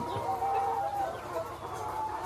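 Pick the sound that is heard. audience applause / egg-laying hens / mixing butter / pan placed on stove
egg-laying hens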